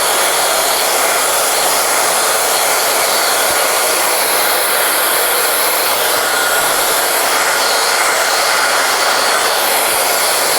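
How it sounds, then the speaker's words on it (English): A hair dryer blows hair back during a barbershop drop fade haircut, with a loud, steady, close-up whooshing roar that never lets up. "So when we're blow drying the hair back, it's because that's where the hair naturally wants to sit."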